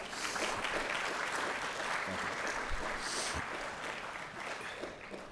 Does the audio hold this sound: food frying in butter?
no